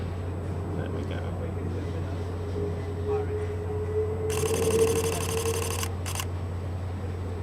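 A Sony A77 camera shutter fires in a rapid burst at 12 frames per second, a dense run of sharp close clicks lasting about a second and a half, then a second short burst, over a low steady hum.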